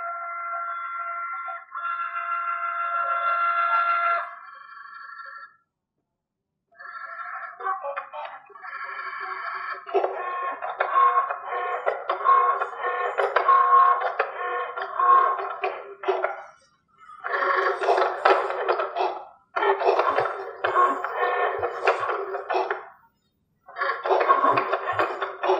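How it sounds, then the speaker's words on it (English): A Cricut cutting machine cutting out a design, giving a close, whirring electronic motor hum in long stretches that stop and restart as the carriage moves, with brief quiet gaps between passes. "when I'm ready to cut it out, I'm going to hit the flashing C button, C for Cricut, and it's going to do its thing"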